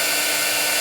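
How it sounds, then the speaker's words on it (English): An embossing heat tool blows hot air a few inches from a die-cut paper sentiment, a loud, steady close-up whoosh with no pauses. "Just let the heat tool warm up."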